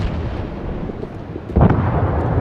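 Warship guns fire in World of Warships, a deep booming blast that bursts in partway through over a low rumbling background, close and loud.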